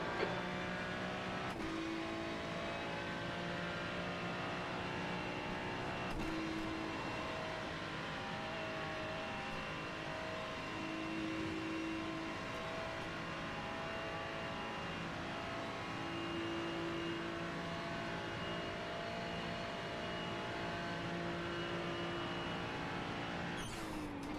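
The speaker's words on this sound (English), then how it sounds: "The next car is Cox." Race cars lap the Spa circuit in a VRS sprint race, engines droning steadily at a distance for the whole stretch with gear changes and passing tones, no talk over them.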